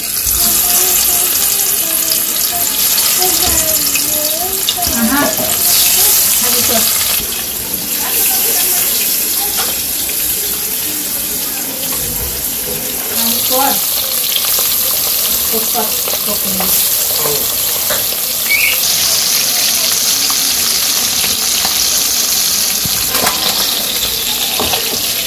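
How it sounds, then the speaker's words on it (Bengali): Continuous loud sizzling of fish frying in hot oil, crackling steadily throughout with occasional clatter and faint talk in the background. "তেলটা গরম হলে মাছগুলো দিয়ে দিব।"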